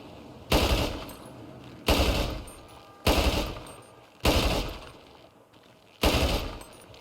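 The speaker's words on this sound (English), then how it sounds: "Next, I'll show you burst." A weapons script in GTA 5 demonstrates burst fire: five loud, evenly spaced bursts of rapid gunshots roughly a second apart, each cutting off with a brief decaying echo, no talk.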